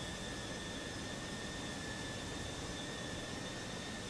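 A Fenix A320 jet engine in Microsoft Flight Simulator 2024 roars as a steady broadband rush with a thin high whine held throughout, loud and unbroken.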